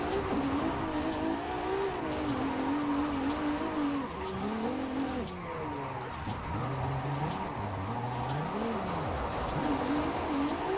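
Ferrari 296 GTB V6 engine in Forza Horizon 5, revving up and down continuously through gears with rising and falling pitch sweeps, loud and close, with brief tire squeal.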